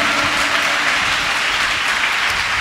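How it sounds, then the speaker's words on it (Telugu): A church congregation at a Sunday service claps in praise, a dense, steady wash of many hands held at an even level throughout, with no pauses or talk over it. "చప్పట్లు కొడుతూ మన ప్రభు నామాన్ని స్తుతిద్దాం"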